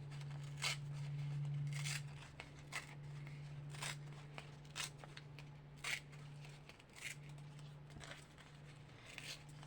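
Scissors cutting through paper in several short snips spaced a second or so apart, close and crisp over a steady low electrical hum, with no talking.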